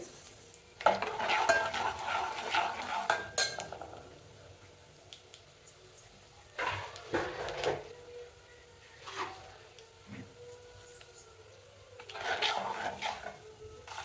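Cumin and mustard seeds frying in oil in a pan for mango rice: bursts of close stirring and utensil clatter over a soft sizzle, separated by quieter gaps.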